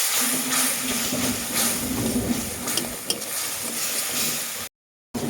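A pan of frying mustard paste, thinned with the water used to rinse the grinding bowl, is stirred steadily with a soft continuous sizzle and scraping, recorded close up with no talking, broken by a brief drop-out near the end.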